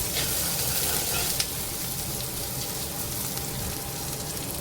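Sliced onions fry in hot oil with ginger and garlic in a home kitchen, giving a steady, close sizzle with one brief tap partway through and no talking.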